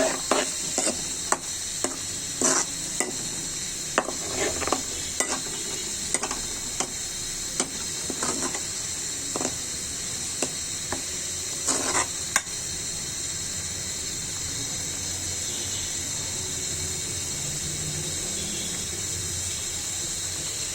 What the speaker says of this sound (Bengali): আমি পেঁয়াজ দিয়েছি বেশি করে রসুন আদা পরিমাণ মতো দিয়েছি মশলাটা কষিয়ে নিচ্ছি ভালো করে